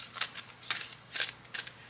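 Tarot cards shuffled by hand: four short, crisp riffling bursts in a steady rhythm, close and fairly soft in a quiet room.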